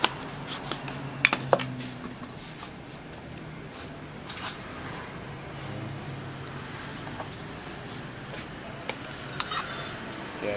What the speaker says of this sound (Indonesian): Diaduk biar merata